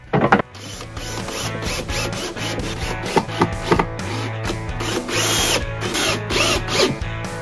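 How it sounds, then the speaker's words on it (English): A power drill drives screws into wood to assemble a box for a campervan stove slider drawer, loud close whirring bursts with ratcheting clutch clicks, starting and stopping several times. "screw these bits together"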